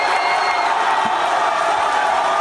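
A live audience roars and cheers as comedian Louis C.K. walks onto a stage, a steady wash of crowd noise with scattered whoops, sustained and fairly loud throughout.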